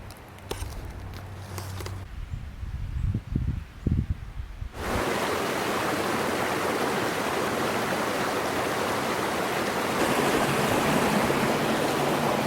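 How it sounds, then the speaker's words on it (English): Cascades on the Willimantic River give a steady, loud broadband rush of flowing water that begins abruptly and fills the rest of the clip, following a few seconds of quieter outdoor sounds and footsteps. "Beautiful set of cascades through here"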